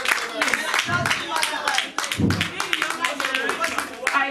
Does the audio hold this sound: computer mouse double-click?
no